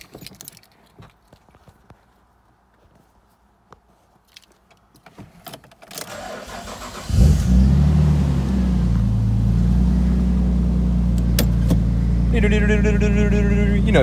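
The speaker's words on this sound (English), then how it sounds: "this is gonna be a nice loud cold start here" Nissan R33 Skyline cold start after sitting a week: quiet rustling and key handling, then the starter cranks and the engine catches into a loud, steady rumbling idle that holds close and constant, with a brief rev.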